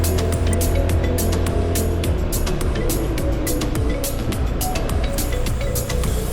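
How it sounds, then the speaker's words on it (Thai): A heavily loaded 350cc motorcycle climbs a hill, its engine labouring in a loud, steady drone mixed with rushing wind buffeting, with sharp clicks and rattles along the way. "ขี่มอเตอร์ไซค์ขึ้นเนินนะครับรู้สึกว่าเสียงเครื่องยนต์จะทำงานหนักนิดนึง"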